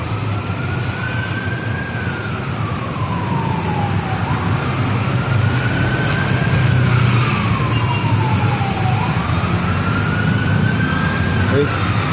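A loud ambulance siren rises and falls in slow sweeps over heavy traffic rumble on Mindanao Avenue, close by and continuous throughout.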